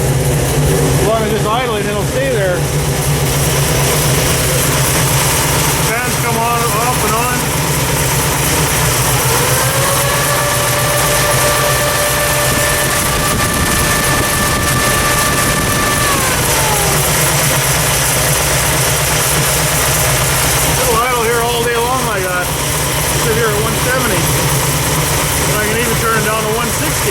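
An overheating Dodge engine idles steadily with its cooling fans whirring, a constant mid-low drone holding throughout, joined midway by a brief rising whine.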